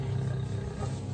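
A wild lioness confronted by a clan of hyenas at night in Africa, heard as a close, deep, continuous growling roar that rumbles steadily for about a second.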